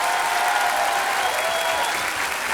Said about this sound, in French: Une tonnerre d'applaudissements pour Charles